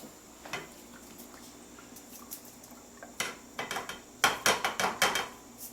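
Quiet taps at first, then a quick run of small clattering, rattling impacts as quinoa grains pour into a pot of water, growing louder toward the end.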